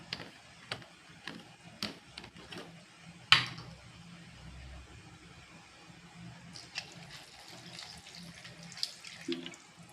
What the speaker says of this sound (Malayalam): നമുക്ക് ആവശ്യത്തിന് അതിലേക്ക് നമുക്ക് വെള്ളം ഒഴിക്കുക